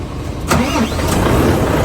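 A new Volvo truck engine in the UAE cranks and catches with a loud burst, then settles into a rough, close mid-pitched idle.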